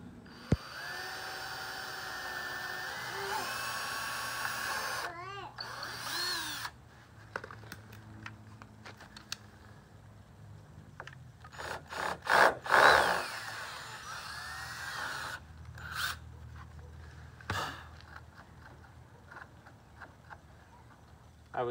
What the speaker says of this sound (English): I'm doing the extra pre-drill now to avoid that from happening again.